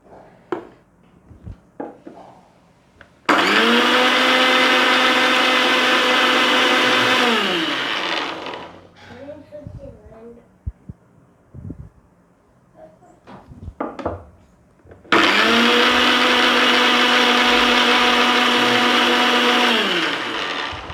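A kitchen mixer grinder whirs through two loud, steady pulses of about four seconds each, separated by a quieter gap of small clinks and handling noises, while it blends oil into homemade mayonnaise.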